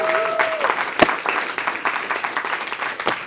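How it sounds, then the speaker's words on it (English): Audience applause for Tedashii at a live event, a dense steady wash of clapping from a crowd that holds at even strength throughout, with a brief rising tone near the start. "if you can just give a round of applause for Tedashii."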